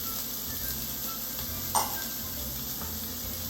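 Onions and celery sizzle in a pan with a soft steady hiss, and a single brief clink of the stirring utensil comes near the middle. No voices.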